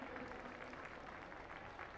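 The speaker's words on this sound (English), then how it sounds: "I'd like to officially ask the officials to come up and give them a huge round of applause" A crowd at a U14 girls' schools' cup football match applauds the match officials, a steady, fairly faint wash of clapping lasting throughout with no pauses.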